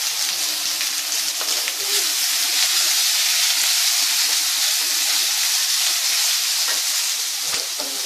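Chopped onion frying in oil in a kadai for chicken kadai, a steady, loud hiss of sizzling with occasional faint stirring scrapes, continuous and without talk.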